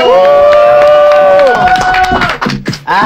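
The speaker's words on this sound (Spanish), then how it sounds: "quiero que le den un fuerte aplauso para Ángel Cruz." Audience at a Chicago variety TV show cheering and applauding loudly for a guest, a dense crowd roar with a long held shout ringing over it throughout.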